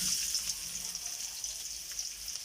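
Sliced shallots sizzling in hot oil for a roasted galangal chili paste, a steady bright crackle and hiss heard up close with no talking.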